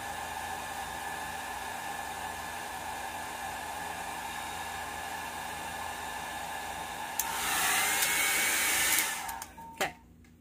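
A hair dryer blows over alcohol ink artwork, first as a soft steady hiss, then louder and closer for about two seconds before it cuts off with a few faint clicks near the end.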